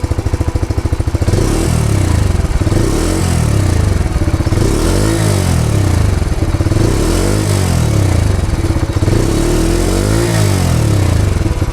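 Bajaj Freedom 125 CNG motorcycle idling on petrol, a steady close, loud single-cylinder exhaust chug with light mechanical clatter and occasional slight revs, no talk.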